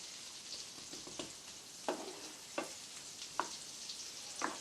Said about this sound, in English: So we first of all add the chopped onion. And stir.